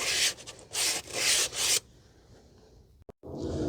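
Sandpaper rubbed along the edges of rear drum brake shoes during a 2017 Toyota Corolla 1.8 brake service: three close, loud rasping strokes, then near quiet with a brief knock.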